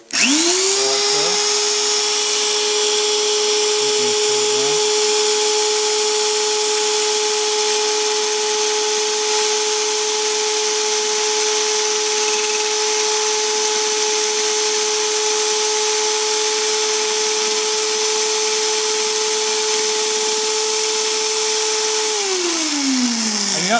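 A steady high-pitched whine holds for over twenty seconds as a blade cuts a diamond tread pattern into a stretched RC car tire, then winds down near the end, loud and continuous with no talk.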